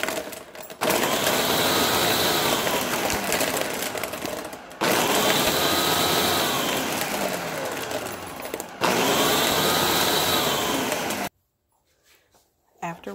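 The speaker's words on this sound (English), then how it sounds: "Add a cup of ice and blend all the ingredients." A blender whirring through a pumpkin spice smoothie with milk and a cup of ice, three loud sustained runs separated by brief pauses, then quiet.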